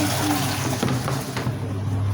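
Water pours steadily into the tub of a twin-tub washing machine, a continuous close rushing fill that runs throughout without a break.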